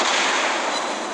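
A naval shell strikes a target in the World of Warships Blitz game, producing a brief, heavy broadband boom that rumbles steadily and fades slightly over about a second.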